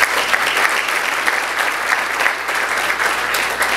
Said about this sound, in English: So please give them one more round of applause.